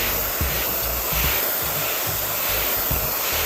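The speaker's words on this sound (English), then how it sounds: "Following my brush with the blow dryer." A blow dryer drying hair during a basic men's haircut and styling, its steady close whoosh running without a break, with soft brushing strokes underneath.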